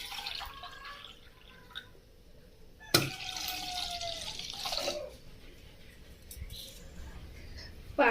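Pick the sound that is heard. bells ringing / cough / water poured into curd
water poured into curd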